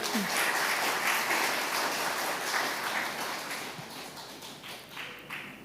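Church congregation applauding as a young member is called up to read a letter to her parents, a steady wash of clapping that gradually thins out over several seconds.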